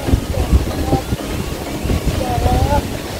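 Gusty wind by the sea buffets and rumbles in open air, with low roaring noise and faint voices underneath.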